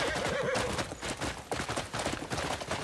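A horse in the video game Crimson Desert gallops with rapid, dense hoofbeats and lets out a whinny near the start. The sound stays loud and busy throughout.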